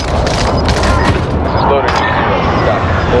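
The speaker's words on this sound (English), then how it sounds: "Bringing down an airstrike." Airstrike explosions rumble in a multiplayer shooter video game, a dense, loud run of overlapping booms and blasts that continues unbroken throughout, with voices talking over the barrage.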